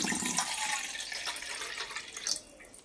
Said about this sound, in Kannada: 1 ಲೋಟ ನೀರು ಹಾಕ್ಕೊಳ್ಳಿ.